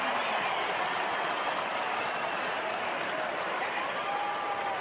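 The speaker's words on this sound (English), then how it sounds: "And by the crowd noise, Dwayne, there's plenty already there." Stadium crowd at an AFL football match between Gold Coast and Melbourne, a distant, continuous roar and applause filling the ground, steady and fairly faint throughout.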